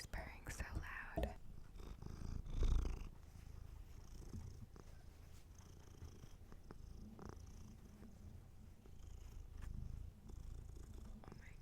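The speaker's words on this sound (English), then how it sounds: "she's purring so loud" A cat purrs loudly and steadily up close, a continuous low rumble running through the whole stretch, with soft whispered talk and handling noises over it.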